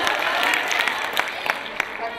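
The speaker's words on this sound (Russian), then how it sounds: "руки в стороны, аплодисменты" A group of children clapping at a rural village gathering, with scattered, uneven claps over a continuous crowd murmur and talking voices.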